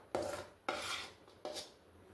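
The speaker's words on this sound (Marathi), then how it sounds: "ताटामध्ये आता आपण हे बॅटर ओतून घेतलेलं आहे" A thick semolina batter is scraped from a bowl into a steel plate, giving three sharp, rasping metal scrapes close by. Each scrape fades out before the next, and there is no talk.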